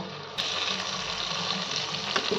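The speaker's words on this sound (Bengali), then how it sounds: "সামান্য পরিমাণ জল দিয়ে মশলাগুলোকে ভালোভাবে কষে নেব।" Spices for chicken curry frying in a pan with a little water, a sudden burst of sizzling that starts after a brief quiet moment and then holds as a steady, close hiss.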